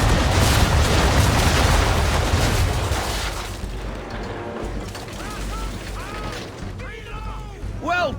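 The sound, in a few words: ship cannons firing a broadside in Assassin's Creed III video game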